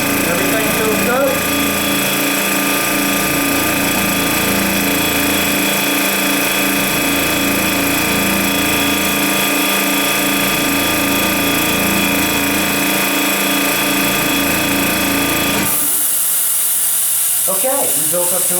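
Oilless air compressor running steadily as it builds pressure, a loud continuous mechanical drone with hiss that cuts off abruptly near the end, leaving a quieter hissing bleed.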